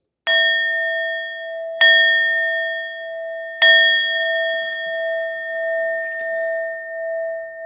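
A metal singing bowl struck three times at even intervals, each strike ringing out clear and sustained with a long shimmering decay that overlaps the next, close and fairly loud with no voices.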